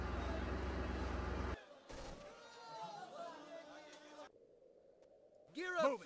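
Gunfire in the video game Emergency 4 with a U.S. Army mod, heard as a dense loud burst of game sound at the start, then quieter effects and a brief sharp burst near the end, under speech.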